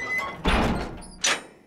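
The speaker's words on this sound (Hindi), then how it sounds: "दरवाजा बंद कर।" A door is shut indoors in a comedy film scene, with two close, heavy thuds spaced under a second apart.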